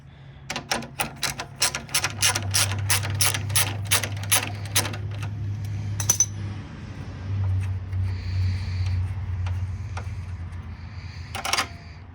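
Ratchet backing out a hood latch bolt on a 2015+ Subaru WRX: a fast run of crisp, close clicks for about five seconds, then scattered lighter clicks and small metallic handling noises over a low hum, no speech.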